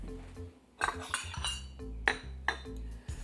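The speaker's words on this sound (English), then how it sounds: "you're going to put your dry ingredients together first and whisk them together." Dry cookie ingredients for double chocolate chip cookies with steel-cut oats being whisked in a bowl: a run of quick metallic clinks and scrapes of a whisk against the bowl, close and fairly quiet, with no talking.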